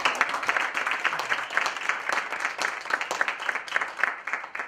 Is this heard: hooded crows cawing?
no